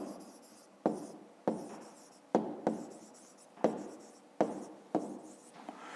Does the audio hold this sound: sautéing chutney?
no